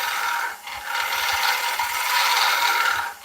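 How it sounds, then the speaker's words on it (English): A turning gouge cuts into an oak platter spinning on a woodturning lathe, giving a steady, loud broadband shaving hiss with slight rhythmic variation over three seconds and no talk. "the lathe is spin the wood, and yeah, let the gouge actually cut it"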